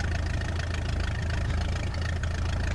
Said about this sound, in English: I love this engine sound when it's just on idle.